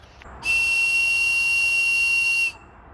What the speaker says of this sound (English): how to make a whistle out of wood